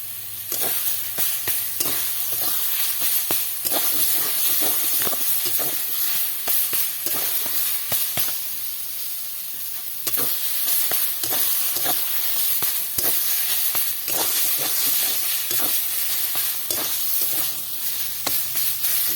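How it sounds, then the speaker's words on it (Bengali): Slit green chillies fry in a pan for a Bengali potato and pointed gourd curry, with a loud, steady sizzle and hiss under frequent stirring scrapes, close up and without any voices. "আর একটু ভাজা ভাজা করে নেব"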